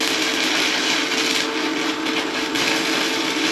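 An angle grinder works over rough welds on a truck bumper, giving a loud, continuous high-pitched grinding whine that wavers slightly in pitch, close up with no talk.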